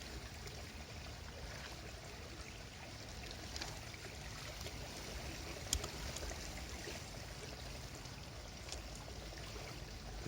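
Fast-flowing river water at a fishing swim rushes and hisses as a steady, dense wash that stays even for the whole stretch, with only a faint click near the middle and no voices.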